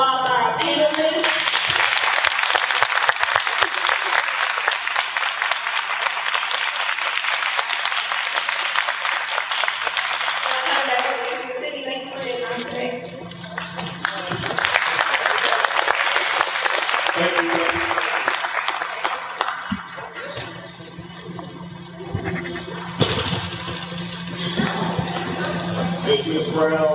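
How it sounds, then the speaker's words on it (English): Audience applause for a fair housing panel, broad sustained clapping filling the room for most of the stretch, dipping briefly and swelling again, with some voices mixed in. "Can we give a big round of applause to our panelists?"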